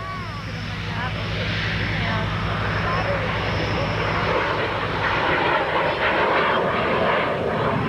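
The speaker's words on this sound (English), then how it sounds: "This is a Canadair-built T-33." A roughly 40-year-old Canadair-built T-33 jet of the Canadian Armed Forces swings through a tight 360-degree turn at the Chatham, Ontario airshow in 1993, its engine a loud, steady roaring whine that builds slightly, with a crowd murmuring beneath.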